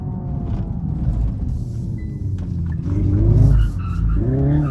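A Hyundai electric car accelerates hard on a slippery surface, its wheels spinning. A loud, close, whining electric-motor drone with rising tonal sweeps and road rumble holds steady throughout.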